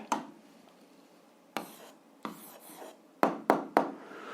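Pen or pencil strokes on paper while a maths exercise answer is written down, a few scattered scratches followed by a quick run of firm taps and strokes, close and quiet with no talking.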